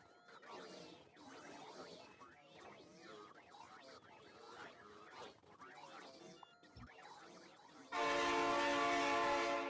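A synthetic game soundscape of warbling, sweeping tones in a space-themed factory game gives way to a loud, sustained train horn blast that ends the clip.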